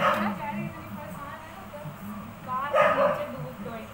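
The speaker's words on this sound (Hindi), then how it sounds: "ये कुत्ता है, इसको क्या करा जाएगा?" A dog at an Indian home barks a couple of times, once at the start and again near the end, heard beneath nearby voices.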